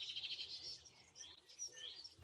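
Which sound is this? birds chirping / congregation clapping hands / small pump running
birds chirping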